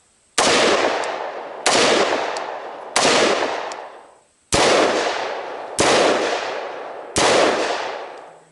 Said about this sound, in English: I've got to get shots on this guy.